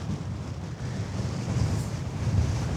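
Strong gusty wind buffets the microphone on the Big Sur coast, a steady loud roar that swells and surges over several seconds, with surf faintly audible beneath.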